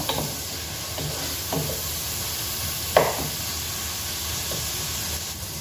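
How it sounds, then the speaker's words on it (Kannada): Ingredients for a Mangalore-style crab curry frying in a pan, a constant loud hiss and sizzle throughout, with a few faint utensil scrapes and one sharper clink midway. "ಚೆನ್ನಾಗಿ ಫ್ರೈ ಆಗಬೇಕು"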